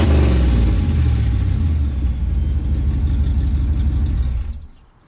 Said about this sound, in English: I'm gonna rev it once for you.